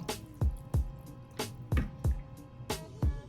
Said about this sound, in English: So I'm gonna add a little more water.